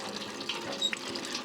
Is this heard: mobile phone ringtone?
no